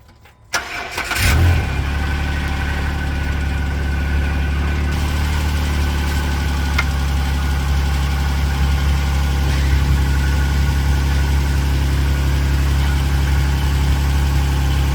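A cold 2009 Jeep Wrangler JK engine cranks briefly and fires up, then settles into a steady, loud, close idle with a deep rumble that holds without talk.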